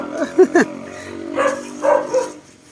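A dog barks twice in quick sharp succession, then lets out a few lower, drawn-out barks or yelps, close and loud.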